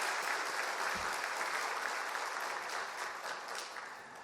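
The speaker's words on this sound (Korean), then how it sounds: "다시 한번 박수 한번 해주셔요." A church congregation applauds during a Sunday worship service, a sustained dense wash of many hands clapping together, steady and fairly loud, tapering slightly toward the end.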